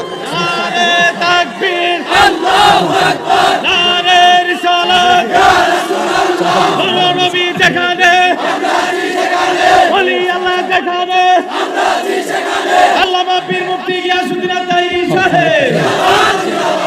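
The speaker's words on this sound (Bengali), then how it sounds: "কারা কারা নবীর ভালোবাসা অন্তরে আছে একটু হাত দিলে স্লোগান দেন" A large crowd at a Bengali Islamic religious gathering chants slogans in loud unison, voices rising and falling in repeated rhythmic bursts that fill the space continuously.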